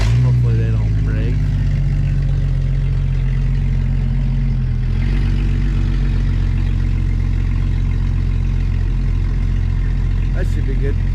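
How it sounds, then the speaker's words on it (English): A Jeep engine rumbling loud and close as the vehicle creeps forward onto a trailer, a steady low drone throughout. "So we're gonna pull Jake's Jeep forward just a little bit"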